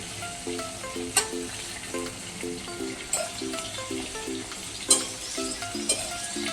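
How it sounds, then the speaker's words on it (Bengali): Golda prawns frying in a pan as they are flipped, close and crackling with steady sizzle, broken by a few sharp clacks from the utensil, and faint rhythmic tones sounding in the background. "চিংড়ি মাছ একদিক হয়ে গেছে, উল্টে দিচ্ছি।"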